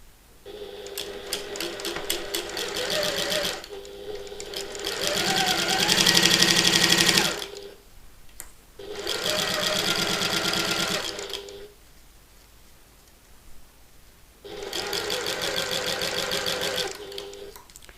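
A domestic sewing machine stitches a bag's lining panel to its gusset in three separate bursts of steady, rapid needle chatter, with quiet pauses between the runs.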